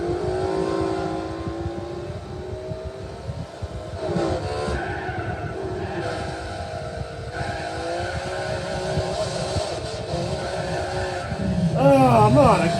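Race cars in Gran Turismo 4 on economy tyres, engines droning and revving steadily while tyres squeal and skid. A Z28 Camaro is among them, and a sharp squeal swells near the end.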